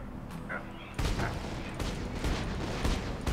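Gunfire and explosions in Borderlands 2, a dense run of sharp bursts and booms that grows heavier after the first second, with a game voice briefly audible underneath.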